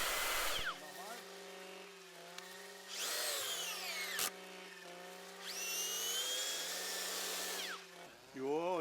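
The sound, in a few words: motorised earth auger drilling holes for planting hedge saplings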